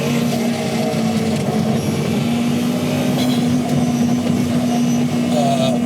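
Czinger V Max hypercar driving on the road, a steady loud engine drone with a sustained tone throughout, close and continuous under road noise.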